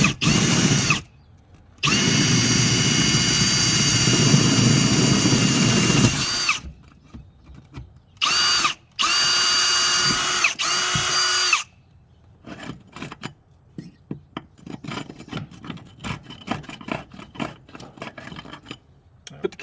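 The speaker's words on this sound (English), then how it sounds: "you're probably going to need a long drill bit, maybe like at least 6-inch drill bit to drill through the wall" A power drill runs a long bit of at least six inches through a house wall in loud, sustained bursts with short pauses, then lighter scraping and handling noises follow.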